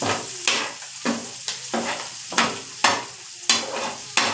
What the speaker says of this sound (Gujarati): એક લીલું મરચું મેં એડ કરી દીધું છે આપણે એને બરાબર હલાવી લેશું